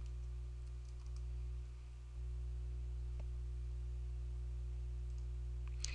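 A computer mouse clicks on cells in a spreadsheet. A few faint, isolated clicks sit over a steady electrical hum, with no one talking.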